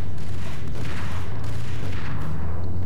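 A grenade goes off in the Max Payne PC game: loud, heavy booming blasts with dense rumbling that fills the whole stretch, overpowering and continuous, with no voices over it.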